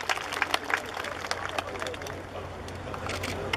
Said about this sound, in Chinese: 我们掌声欢迎李孟燕代理市长